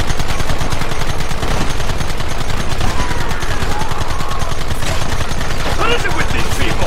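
Rapid gunfire from the Red Dead Redemption video game, dense continuous volleys of shots layered over one another for several seconds, loud and close, with a shouted voice briefly audible amid the shooting.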